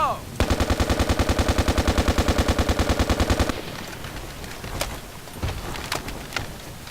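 Full-auto rifle fire in Battlefield Play4Free, a single rapid burst of about three seconds of evenly spaced loud shots, followed by quieter scattered distant gunfire and small clicks.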